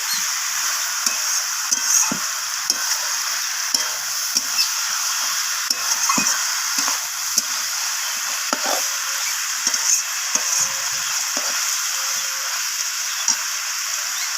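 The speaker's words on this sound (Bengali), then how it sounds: "রসুন বাটাটা দেওয়ার পর আমি আবারও এইভাবে নাড়াচাড়া করে মিশিয়ে নেব" Garlic paste stirred and fried in a pan while chicken gizzard and liver are cooked. A bright, steady sizzle plays close and clear, punctuated by repeated scraping taps of the spatula, with no talking.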